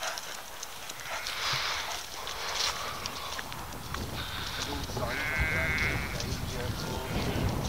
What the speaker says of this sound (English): I know, but there's lots of lambs this